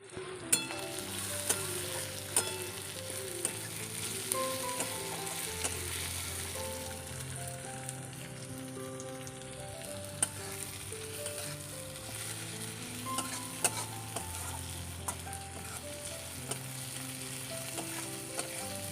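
Meat curry sizzles in a pan for a long stretch, with continuous frying crackle and repeated scraping of a spoon as it is stirred; a faint tonal hum runs underneath.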